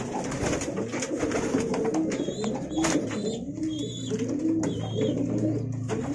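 Domestic pigeons coo repeatedly during a first courtship pairing, the soft rolling calls overlapping against steady background noise and some chirps, fairly close.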